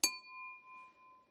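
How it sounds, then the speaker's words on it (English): A tapped leaded crystal glass gives one sharp clink, then rings on as a clear, steady tone that slowly fades over about a second, close and quiet. "Leaded crystal sings."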